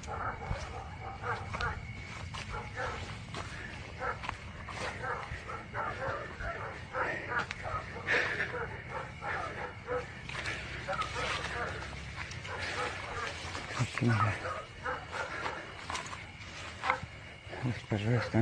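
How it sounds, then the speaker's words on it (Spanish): Dogs barking and yipping repeatedly at a distance, excited and irregular, mixed with whimpers and background voices. "Los perros están alborotados."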